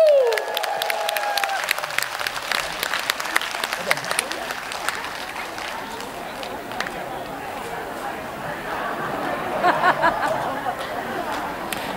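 Audience clapping at an outdoor special concert, a dense, steady patter of many hands lasting the whole stretch, mixed with crowd chatter and a voice over a PA at the start, swelling slightly near the end.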